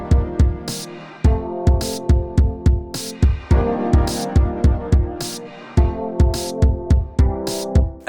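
Hip-hop beat with electric piano chords over a looped pattern of punchy kicks and bright, regular hi-hat or snare hits, loud and steady with no talking.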